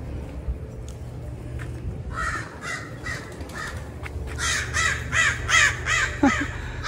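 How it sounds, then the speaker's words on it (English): Several crows caw repeatedly outdoors along the Venice Canals in Los Angeles, harsh calls coming in quick bursts that grow louder toward the end, over a low background hum. "Lots of crows. They're very active today."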